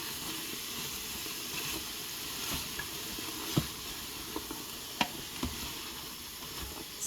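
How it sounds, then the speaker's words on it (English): Butter and avocado oil sauté in an Instant Pot, giving a quiet, steady sizzle and hiss with a few scattered light taps and pops. "I added in about a tablespoon of butter just to get a good saute going and give it more flavor"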